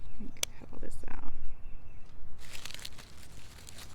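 Snipping and tearing away spent leaves and runners from strawberry plants in a GreenStalk vertical planter, a few close crunchy cuts early on, then a denser rustling crinkle of foliage; no one speaks.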